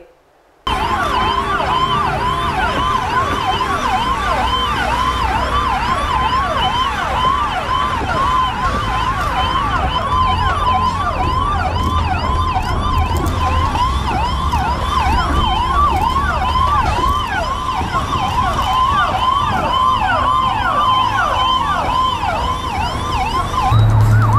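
An ambulance siren wails continuously in a rapid up-and-down yelp, loud and close, over faint traffic rumble in Ratnagiri district, India, with no talking.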